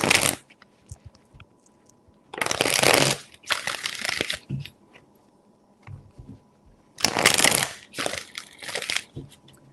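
Repeated bursts of tarot cards being riffle-shuffled up close, loud crisp flutters separated by brief quiet gaps and light handling.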